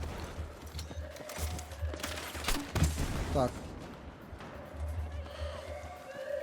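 Gunfire and explosive bursts from a Battlefield beta match, including a thrown grenade. A cluster of sharp cracks and blasts peaks midway, with steady battlefield rumble around it.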